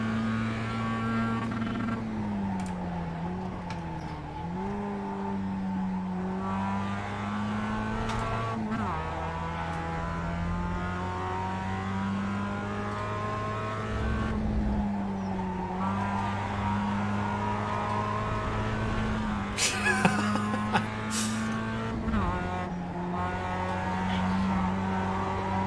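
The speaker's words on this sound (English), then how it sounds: "Drifting. It's not the fastest way around a corner, but it's certainly fun." A Mazda MX5 race car in the iRacing sim drifting around Laguna Seca, a steady engine drone shifting pitch through corners, with brief tire squeal and small revving dips.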